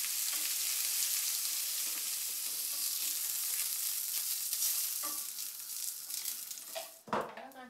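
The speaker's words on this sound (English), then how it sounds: "brown the flour and the meat and to seal in the juices" Meat coated in flour sizzles and browns in a hot frying pan, a loud steady hiss throughout with a few clinks near the end.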